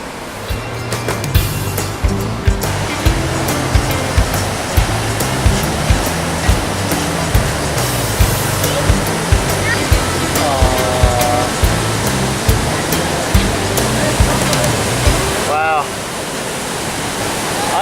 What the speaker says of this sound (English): All the rain that we've had in the last couple of days has resulted in the waterfall being about twice its normal volume.